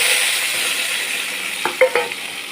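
Onion, tomato and garlic frying in a pan, stirred a few times near the end with brief scraping clatters over a steady soft sizzle.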